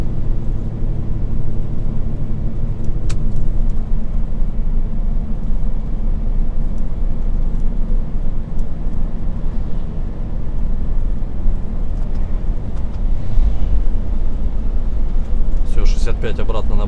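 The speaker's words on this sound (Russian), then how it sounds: "Не газую, ничего не делаю. Машина накатом идет." A cargo truck coasts downhill with no throttle, its drivetrain and road noise forming a steady low rumble inside the cab throughout.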